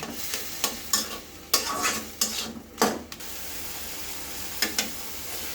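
Taro greens with sliced green chilies, cooked with prawns, being stirred in a pan: close, irregular scraping strokes of a spatula against the metal, some sharp and loud, over a low sizzle.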